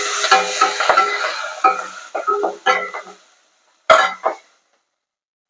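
Onion, tomato and cauliflower leaves stir-fried in a pan, with bursts of stirring and scraping over a soft sizzle that comes and goes in short, uneven strokes, then a brief pause and one last loud scrape.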